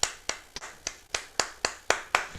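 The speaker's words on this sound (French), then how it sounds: "Donnons-lui une bonne main d'applaudissements." Sparse, slow clapping at a virtual workshop, roughly one clap every quarter second, a handful of near, crisp individual hand claps rather than a crowd.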